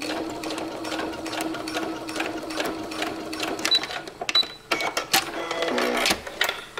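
A sewing machine topstitching a zipper runs in bursts of fast mechanical whirring, close and steady, with short pauses and small clicks between runs as the fabric is repositioned.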